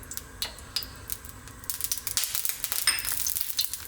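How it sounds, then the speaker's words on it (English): Garlic and ginger hitting hot sesame oil in a warm wok, a bright crackling sizzle that builds and grows denser, with a few utensil clicks, close and without talk. "that sesame oil, and to that we're going to add that garlic and ginger."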